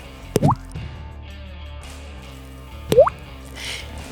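A human voice imitates dripping water, producing two distinct wet plopping drip sounds about two and a half seconds apart, close and clear over a quiet background.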